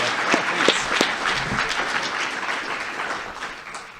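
Audience applause for five presenters at the close of a conference session, a dense steady clapping from a crowd that holds at full strength throughout with a few sharper near claps standing out.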